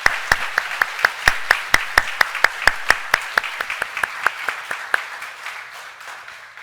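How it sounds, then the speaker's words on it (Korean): A Sunday worship congregation claps for the choir in unison, sharp regular claps in a quick steady rhythm, about four per second, that gradually soften and fade out. "너무나 은혜되는 우리 찬양대에 다시 한번 좀 큰 박수를"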